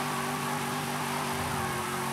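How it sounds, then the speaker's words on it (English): The Eleanor car in Forza Horizon 5 gives a steady, loud engine roar that holds its pitch throughout, with a rough, dense tone and no voices. "Oh, listen to that engine."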